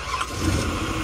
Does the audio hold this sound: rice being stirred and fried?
no